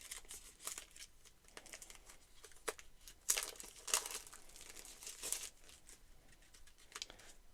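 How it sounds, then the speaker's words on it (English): Packs of board game cards being opened up close, with crinkling wrapper, soft tearing and scattered rustles and snaps from handling. "let's open up these cards and see what they are like"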